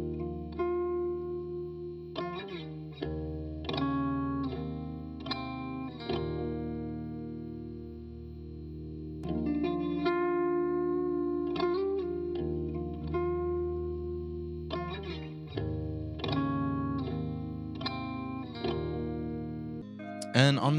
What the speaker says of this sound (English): the track starts out with this clean guitar which I recorded on my Stratocaster